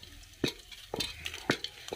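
An egg fries in a pan on a wood-burning stove, with a soft sizzle beneath repeated sharp scrapes and clinks of a utensil stirring against the metal, coming in uneven bursts close by.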